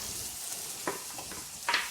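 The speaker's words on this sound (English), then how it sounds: "While it's sizzling for that 30 seconds" Chicken breast sizzles in a hot pan with a steady hiss and a few sharper crackles and spits, close and alone with no talking.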